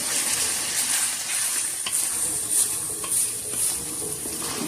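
Chicken wings karahi with coriander and ginger being stirred, a close sizzling bubble with wet scraping strokes and faint utensil clinks at a loose rhythm, no talking.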